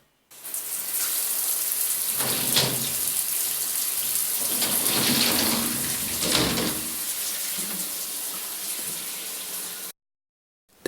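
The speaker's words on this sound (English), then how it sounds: "The shower." A shower runs in a flat, with steady hissing water spray that continues for about ten seconds and then stops abruptly. It is close and fairly loud, with faint shifts in the splashing.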